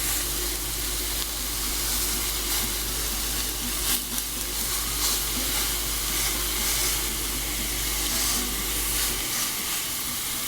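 Hamburger steak patties sizzle in a crowded pan, a loud, steady frying hiss that carries on without pause for the whole stretch before abruptly thinning near the end.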